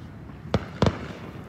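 Fireworks on the Fourth of July burst as two sharp cracks a quarter second apart, the second doubled, fairly close over a quiet background.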